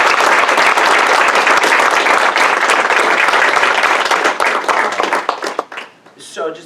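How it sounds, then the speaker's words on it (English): A board-meeting audience gives sustained, loud applause for a middle school principal named Principal of the Year. The clapping stays thick and even for several seconds, then thins into scattered claps and fades out near the end. "I'd like to give him a big round of applause"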